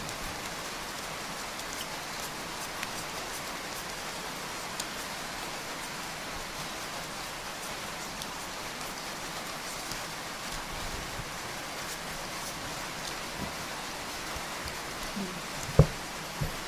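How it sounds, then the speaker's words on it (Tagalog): Heavy rain falling: a steady, dense hiss of rain on surfaces throughout, with a few isolated knocks and taps near the end. "Malakas ang ulan."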